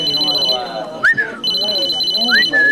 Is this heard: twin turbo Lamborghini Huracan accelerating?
no